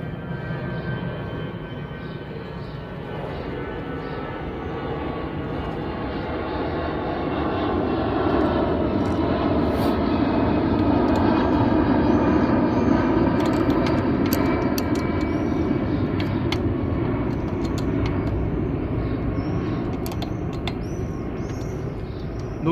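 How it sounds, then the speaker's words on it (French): A fixed-wing airplane takes off from an airport near a home, its engine roar loud and close, swelling to a sustained peak midway and holding as a broad, continuous rush. "c'est l'heure de départ de tous les avions là vers chez moi"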